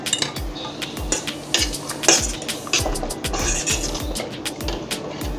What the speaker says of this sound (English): I'm going to take out the eggs also, because they're boiled